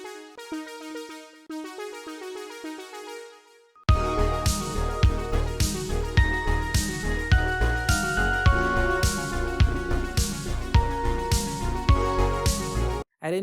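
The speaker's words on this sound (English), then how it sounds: "the ARP that I made sounds like this" A synthwave arpeggio from the freeware Synth1 plugin's arpeggiator starts as a sparse, thin run of notes, then bursts into a full, bright, rapidly pulsing pattern of repeated notes that cuts off abruptly.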